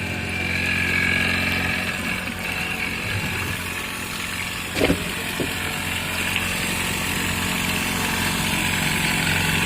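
A small engine powers a homemade water pump, running steadily at a constant idle-like drone with one brief knock midway, fairly near and without talk.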